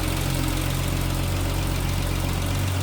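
The engine of a 1973 Triumph TR6 convertible with triple two-barrel carburetors runs at a steady idle, a loud, continuous, even rumble up close with no talk.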